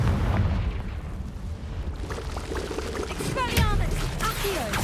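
A Confringo blasting spell in Hogwarts Legacy bursts inside a cave with a booming rumble and crackling debris, set against steady combat noise.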